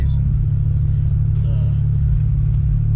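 A BMW E92 335i with a stage 2 tune is driven, its engine and road rumble a deep, steady drone from inside the cabin, with light clicks and rattles and some faint talk.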